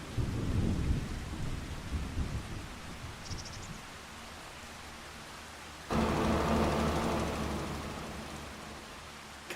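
Heavy rain in Farming Simulator 25 pours down with a low rumble of thunder underneath. The downpour swells suddenly loud midway and then eases off gradually. No one speaks.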